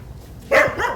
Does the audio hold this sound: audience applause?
no